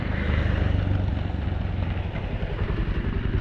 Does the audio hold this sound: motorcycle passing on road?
yes